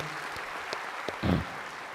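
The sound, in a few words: welcoming applause from worship attendees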